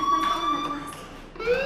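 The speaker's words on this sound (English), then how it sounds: "Hey, do you hear that fire alarm?" A fire alarm rings in the Life Is Strange video game, holding a steady electronic tone that wavers and shifts in pitch, heard under a voice speaking.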